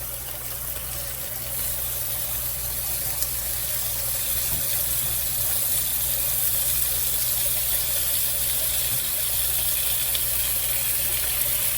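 Strips of bacon sizzle in a Dutch oven, a steady dense hiss with a constant low hum beneath it that stays even throughout, close and continuous, with no talking.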